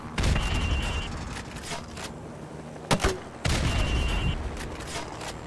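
Grenade launcher rounds fire at building windows in Call of Duty: Modern Warfare Remastered's training level, heard as loud booming blasts, one opening burst and two more close together later, with quieter rumbling in between.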